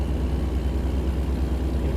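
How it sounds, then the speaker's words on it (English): A diesel truck engine in the video game American Truck Simulator drones as a steady low rumble, close and even throughout with no other sounds over it. "Listen to the sound of the diesel engine go"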